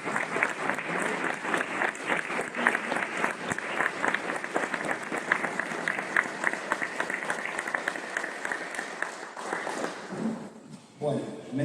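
An audience at a talk on international trade breaks into sustained applause, a dense, steady patter of many hands clapping that carries for several seconds before thinning out toward the end.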